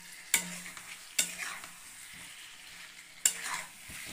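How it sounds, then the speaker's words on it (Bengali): Potatoes stirred into a spiced masala in a frying pan, a steady close sizzle with three sharp scrapes of a utensil against the pan. "এবার আমি আলুটা দিয়ে দেবো।"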